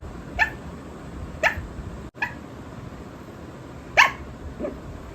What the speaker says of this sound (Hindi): ये कैसे भौंक रही है सपने में